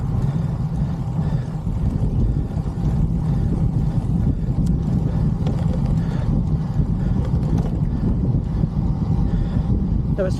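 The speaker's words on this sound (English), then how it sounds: "Now it's fairly windy today" Steady low rumbling wind buffeting a microphone while cycling outdoors on a road, loud and continuous throughout with no pauses.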